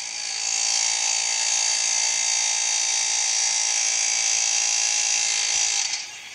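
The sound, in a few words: air hammer breaking a rivet on a lower ball joint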